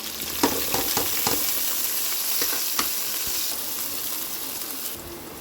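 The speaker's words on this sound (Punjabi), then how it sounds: "ਤੇਲ ਆਪਣਾ ਗਰਮ ਹੋ ਗਿਆ ਤੇ ਲਸਣ ਪਾਉਣੇ ਆਪਾਂ ਬਰੀਕ ਬਰੀਕ ਕੱਟਿਆ ਹੋਇਆ" Chopped garlic, ginger, green chilies and onion frying in hot oil, a steady close sizzle with a few spatula knocks and scrapes, no voices.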